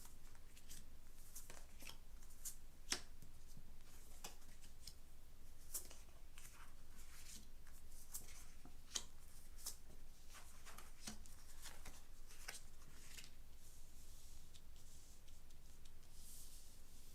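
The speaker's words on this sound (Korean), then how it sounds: "1번 뽑아주신 분들 카드 펼쳐보도록 하겠습니다" Tarot cards are spread out across a table in a quiet room, giving soft, irregular slides and flicks with a few sharper taps, faint and close, and no talking.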